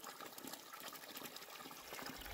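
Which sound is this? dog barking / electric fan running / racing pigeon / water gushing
water gushing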